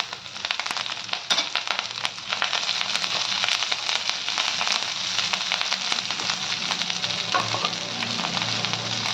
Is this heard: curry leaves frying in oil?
yes